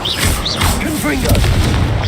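Confringo fire spell exploding in the Hogwarts Legacy video game: a deep booming blast with rumbling low end, loud and close, overlaid with swooshing magical effects and a brief voice.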